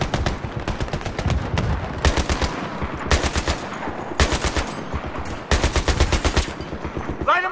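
Rapid automatic gunfire in the video game Battlefield 3, long machine-gun bursts repeating in close, loud volleys with brief pauses between strings of shots.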